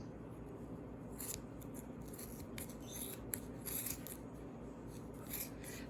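Scissors snip repeatedly through thick wrapped yarn being cut into a pompom, a quiet, close run of crisp cutting and rubbing sounds.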